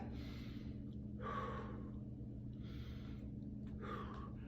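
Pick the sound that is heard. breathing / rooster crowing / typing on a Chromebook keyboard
breathing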